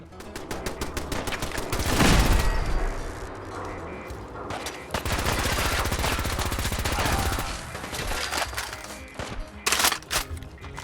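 A P90 submachine gun fires in Fallout 4, long loud automatic bursts of rapid close shots with short gaps between volleys and a couple of brief final bursts.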